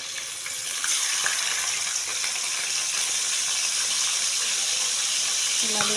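Fish frying in a pan gives a loud, steady, dense sizzle with a hissing, water-like rush that runs through the whole stretch.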